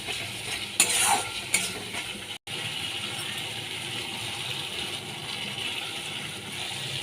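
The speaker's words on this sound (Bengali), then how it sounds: "মশলাগুলোকে ভালো করে কষিয়ে নিতে হবে" Spices with Kashmiri chili powder fry in a pan for a Bengali bata fish curry with a dense, even sizzle. Two brief stirring scrapes come early, then a momentary cut, and the steady frying hiss continues close up with no talk.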